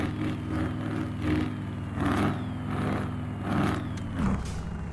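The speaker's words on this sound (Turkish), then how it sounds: "Egzoz cayırıyor arkadaşlar." A DAF truck exhaust roars in a truck-driving video game, the truck hauling five trailers with an EVO Wing mod. A steady, loud, low engine drone swells and eases in a slow rhythm, with no talking.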